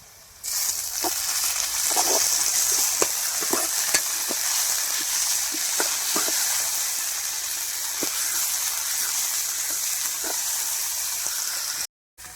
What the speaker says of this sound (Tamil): இஞ்சி பூண்டு பேஸ்ட் போட்டுக்கலாம்